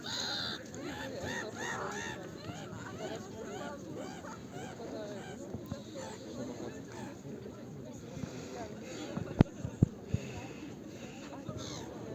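Seagulls call over water near a boat, their harsh, repeated cries scattered through a steady wash of wind and engine noise at moderate distance.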